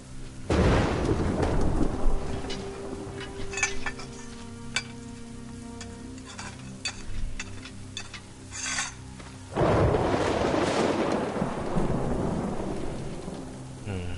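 A thunderstorm with heavy rain in the video game Assassin's Creed Rogue: loud rolling thunder cracks at the start and again midway over a steady hiss of rain pattering on surfaces.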